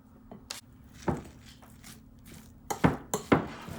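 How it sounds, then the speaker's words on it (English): Raw celery and dill are stirred into a raw vegan tuna salad in a bowl, giving a few soft, scattered clinks and scrapes of utensil against dish, quiet and close with gaps between. "I'm gonna mix in my celery. I'm gonna mix in my dill."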